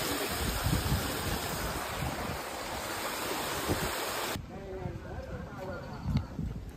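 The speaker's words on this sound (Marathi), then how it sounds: "धबधबा बघू शकता." A waterfall and stream at Raigad fort rush in a dense, steady roar of water that fills the whole clip and eases slightly partway through, with faint knocks and movement nearby.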